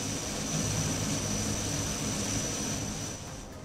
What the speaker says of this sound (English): What is this plane doing?